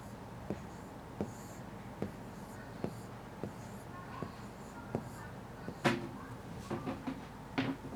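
Chalk or marker strokes on a classroom board tap and scratch in short, evenly spaced marks, fairly quiet, with faint background rustle.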